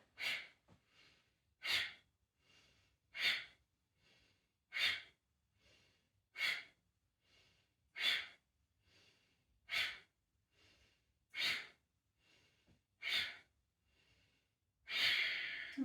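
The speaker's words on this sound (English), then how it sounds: "Maybe try 10 Kapalabhati Pranayama doing this. Inhaling forward, exhaling strongly back." Forceful Kapalabhati Pranayama breathing in a yoga squat, ten or so sharp nasal exhalations at a steady rhythm about every 1.6 seconds, each a short loud burst, close up, with a longer final breath.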